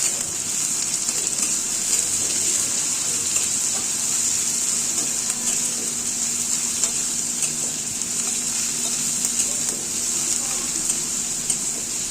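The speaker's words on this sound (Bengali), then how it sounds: "তেল গরম হয়ে গেছে তো এখন দিয়ে দিচ্ছি পেঁয়াজ আর লঙ্কা কুচি দিয়ে এটাকে এখন ভালো করে একটু ভেজে নেব" Chopped onion and chili fry in hot oil with a steady, even sizzle and crackle that holds for the whole stretch, close and moderately quiet, with no talking over it.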